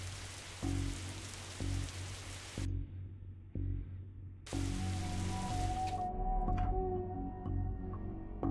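Rain falls steadily in the video game Martha is Dead, a dense hiss that cuts out and returns, with low rhythmic thumps and a faint tonal hum underneath.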